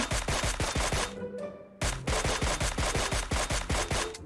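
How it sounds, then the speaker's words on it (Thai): SKS rifle gunfire in the PUBG Mobile video game: a loud, close stream of rapid, sharp shots breaks off briefly, then resumes at the same steady pace. "มีคนยิงเอสเคสเฮ้ย"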